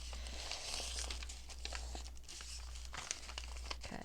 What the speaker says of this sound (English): I might have to fold it a little bit different to get it into the CD envelope